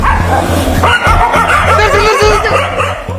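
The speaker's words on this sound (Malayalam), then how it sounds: "ഈ ആത്മാവ് വരുമ്പോഴത്തേക്ക് പട്ടി കുറയ്ക്കും" Loud, dense yipping and barking from a dog fills a comedy skit scene, continuous and close over a busy backdrop with steady low rhythmic music.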